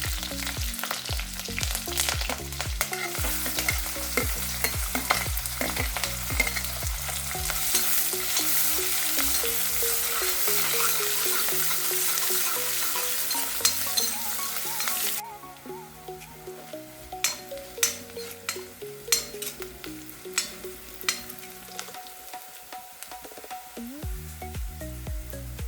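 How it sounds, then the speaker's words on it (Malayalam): Green chilies and shallots sautéing in a pan for a bitter gourd stir-fry, with a steady loud sizzle and frequent stirring scrapes; the sizzle drops noticeably about two-thirds of the way through. No voices. "പച്ചമുളക് ചേർത്ത് വഴറ്റിയതിനു ശേഷം ആദ്യം ചെറിയ ഉള്ളി ചേർത്ത് കൊടുക്കാം."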